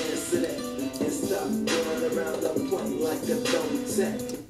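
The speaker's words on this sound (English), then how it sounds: "If you're getting a muffled sound like this," Raw vocals in a GarageBand mix with the bass set too high, giving a muffled, boomy sound like an old radio; a dense, continuous musical mix with the voice buried in a thick low end.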